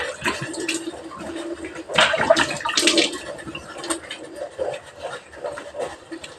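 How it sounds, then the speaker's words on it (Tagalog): Water splashes and pours from a container as a face is washed by hand, several uneven bursts of sloshing close up, with quieter drips and trickles between them. "Manghilamuos muna tayo guys."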